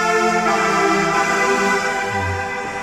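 A synth patch from the Alchemy Synths instrument in GarageBand for iOS plays sustained, harmonically rich tones with shifting bass notes, steady and fairly loud, with no talking.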